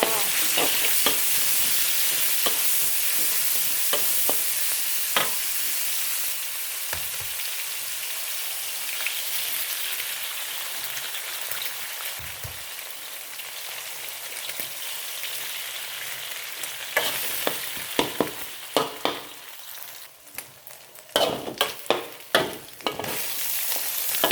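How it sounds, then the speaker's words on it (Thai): Pork and ridge gourd sizzle and crackle steadily in a hot pan, with occasional scraping and clatter as the stir-fry is tossed, growing busier and louder toward the end. "ผัดหมูได้พี่แล้วเราก็จะมาใส่บวบ ก็จะผัดจนบวบสุกนะคะเพื่อน"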